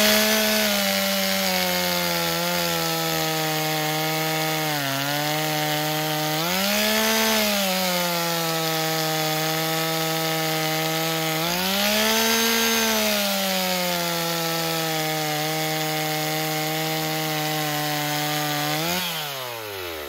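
A chainsaw running on 25:1 oil mix cuts through wood cookies, a loud, steady two-stroke whine that dips and rises in pitch as the chain bites and clears each slice over twenty seconds.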